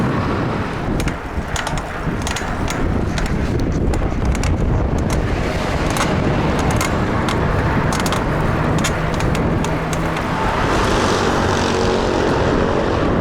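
Steady, dense roar of traffic with engines droning and passing vehicles blending together, loud and continuous, with a higher engine whine rising near the end.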